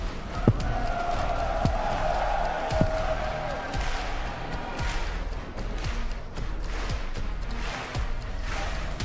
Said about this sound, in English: let's start clapping. Let's start making some noise.